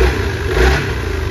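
Yamaha Majesty 400 scooter, a 2007 model with a 400cc single-cylinder engine, revving close by; a steady mid-pitched engine drone rises slightly near the middle of a short burst, with a faint rattle underneath.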